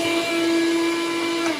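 Vacuum cleaner sucking up drilling debris from a glass tequila bottle, a steady close whine with a strong constant tone and no voices.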